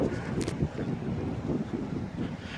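Strong wind gusts up a street in Green Valley, Arizona, buffeting and rumbling loudly against the microphone in continuous uneven bursts, with no voices.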